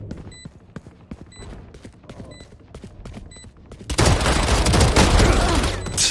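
Rapid gunfire in the tactical shooter Valorant: sparse shots for the first few seconds, then a dense, loud burst of overlapping fire that fills the rest of the clip.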